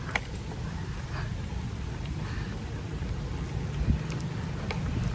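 Steady rain hisses against a bicycle ridden through a typhoon, with rumbling wind buffeting the microphone throughout and a brief thump partway through.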